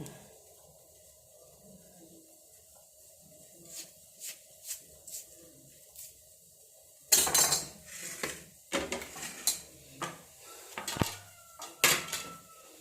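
Vegetables sliced lengthwise on a cutting board in a home kitchen, with a quiet start and then a run of sharp knife taps and clacks, irregular and close, mixed with light utensil clatter.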